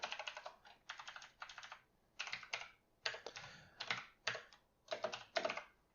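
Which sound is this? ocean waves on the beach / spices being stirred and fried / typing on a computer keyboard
typing on a computer keyboard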